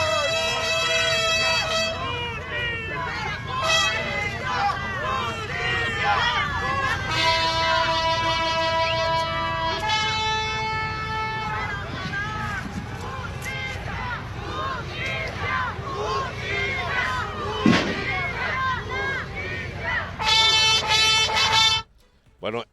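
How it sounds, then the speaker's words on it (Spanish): A crowd at a memorial guard-of-honor ceremony jeers and boos, a dense, sustained roar of many voices with shouts and whistles rising throughout, cutting off abruptly near the end. "esos son los abucheos"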